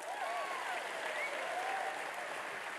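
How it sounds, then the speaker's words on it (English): An audience at a talk by a Catholic priest gives a steady round of applause for a volunteer in glasses coming forward, a dense even wash of clapping with faint voices underneath. "Give him a round of applause"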